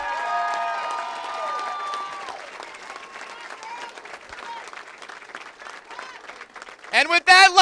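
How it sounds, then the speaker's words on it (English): Crowd applause and cheering for competitors at a 2015 girls' state championship event, a continuous clapping wash under an announcer's voice and tonal whistles or squeaks, swelling louder at the end. "Let's give one big round of applause for all of these competitors."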